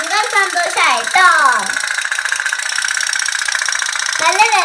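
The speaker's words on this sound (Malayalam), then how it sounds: "നല്ല രസമായിട്ട് നമ്മുടെ ബോട്ട് ചേട്ടൻ ടിക്കിടിക്കാന്ന് ഓടുന്നില്ലേ കൂട്ടുകാരെ?" A small steam-powered toy pop-pop boat runs with a rapid, even ticking putter that carries on steadily through the middle. An animated voice talks over it at the start and end.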